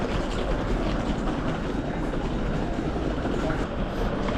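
A modern double-decker Russian passenger train rumbles steadily along its rails near Cheboksary, Chuvashia, a dense continuous roar with faint rhythmic clatter heard from inside or close by.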